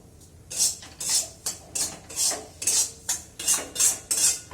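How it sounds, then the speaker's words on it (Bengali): Semolina roasting in a pan, stirred with a metal spoon that scrapes and clinks against the pan in a steady rhythm of about nine close, bright strokes. "দুধ দিয়ে সুজি বানিয়ে দেবো, একটু লালচে লালচে করে দিই, ভাজা ভাজা"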